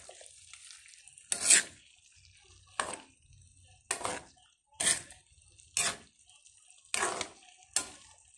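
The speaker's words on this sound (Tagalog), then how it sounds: "Dandahanin ko lang pag halo kasi numiniwi po yung ating kawali" Slow stirring of vegetables and pork with chayote and bottle gourd in a wok that wobbles on the stove, giving seven separate scraping, clattering strokes at a steady unhurried pace, close by and moderately loud against a quiet background.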